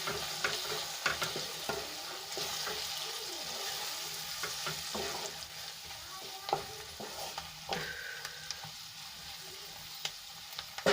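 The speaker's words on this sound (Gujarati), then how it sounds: "તો અહીંયા જે આપણે મસાલો બનાવીને રાખ્યો છે એ આપણે એડ કરી લઈશું અને સરસ રીતે આપણે મિક્સ કરી લઈશું" Spice masala being stirred into ivy gourd (tindora) curry frying in a pan: a steady close sizzle with scraping spoon strokes and irregular clinks against the pan, no voices.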